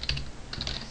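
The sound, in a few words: typing on a computer keyboard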